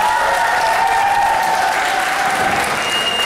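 Steady, dense applause from a concert audience at a Valentine's show, loud and even throughout with no pauses.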